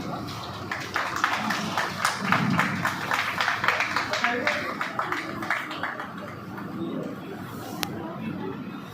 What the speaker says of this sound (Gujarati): એમના માટે પણ જોરદાર તાળીઓ થઈ જાય.